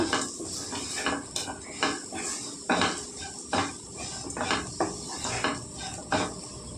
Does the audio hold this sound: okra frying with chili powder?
yes